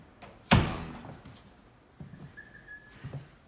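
A pantry door fitted with a door-activated light switch swings and shuts with one solid thump, followed by a fading room echo, a faint whistle and a couple of softer knocks, with no talking.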